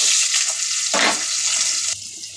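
Chopped onions fry in oil in a wok with a bay leaf and five-spice seeds, giving a steady bright sizzle close by. A brief louder burst of stirring comes near the middle, and the sound drops a little toward the end. No one talks.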